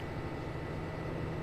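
Steady background whir of a home computer's cooling fan, a constant broadband hiss with a low hum running unchanged throughout, with no speech.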